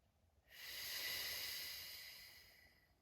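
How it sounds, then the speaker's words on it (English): A deep, slow exhale through the mouth during a Pilates mat breathing exercise, a soft breathy hiss that swells in after a quiet start and fades gradually over about two and a half seconds, close and alone. "Deep breath in through the nose and exhale through the mouth"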